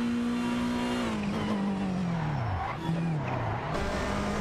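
A Mitsubishi Starion and a Ferrari 288 GTO race in a racing game, a steady engine drone holding pitch and then dropping and rising through gear changes, with tire noise and no talk.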